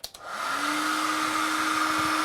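A hair dryer switches on and runs steadily, a loud continuous blowing whir with a constant motor hum, used to heat a Samsung Galaxy S4 during a digitizer replacement.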